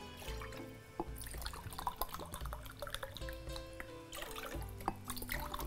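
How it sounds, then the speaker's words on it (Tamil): Water is poured into a pressure cooker in a home kitchen, a faint continuous trickle with small splashes and drips throughout. "முதல்ல வந்து ப்ரெஷர் குக்கரில் தண்ணியை ஊற்றி வச்சுக்கலாம்."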